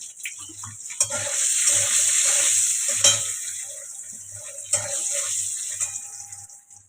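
Peeled boiled eggs fry in hot oil in a home kitchen, a steady close sizzle with occasional sharp pops and crackles, interrupted by scattered soft clatters of utensils.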